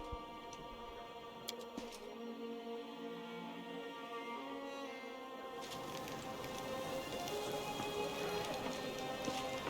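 Steady rain falls in the Pathfinder: Wrath of the Righteous video game, a constant hiss that swells louder and denser about halfway through and continues without pause, with no voices over it.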